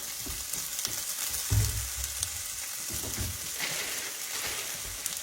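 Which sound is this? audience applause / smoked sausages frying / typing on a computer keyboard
smoked sausages frying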